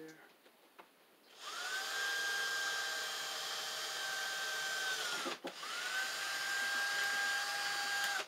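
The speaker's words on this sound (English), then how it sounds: "So I'll drill the hole right here." A power drill bores a hole in the back of a Sanyo appliance, with a steady whine that spins up, runs for several seconds, briefly stops, then whirs again, close and fairly loud.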